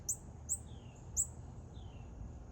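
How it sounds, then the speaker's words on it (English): A northern cardinal calls from tree branches beside a pond, three sharp high chirps spaced unevenly, followed by two fainter descending notes, small and somewhat distant over quiet outdoor background. "A cardinal in the branches up here is kind of making some sweet noises."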